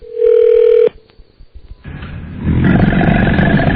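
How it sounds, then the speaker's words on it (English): A roaring big-cat ringtone blares loudly from a mobile phone, one sustained roar-like tone that cuts off abruptly, followed by a burst of clatter and rising broadband noise. "It's a new ring on my phone."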